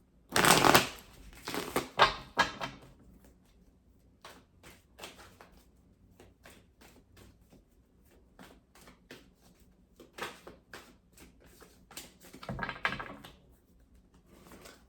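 Tarot cards being shuffled in bursts of rapid riffling, loudest at the start and again near the end, with softer intermittent flicks and taps between.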